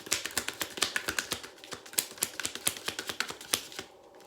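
Tarot Lenormand cards fall onto a table in a rapid, uneven run of light crisp slaps and clicks for several seconds, close by, then taper off.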